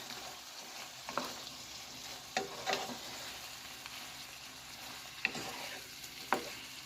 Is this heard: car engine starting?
no